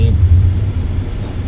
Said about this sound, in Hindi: बहुत ज़्यादा ट्रैफिक है यहाँ पे